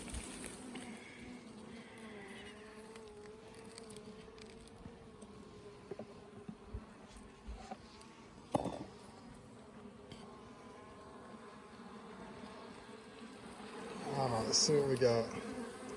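Honey bees buzz steadily around an open two-frame nuc hive on a farm, a continuous close hum with brief louder swells as the frames are handled, while a person speaks quietly now and then.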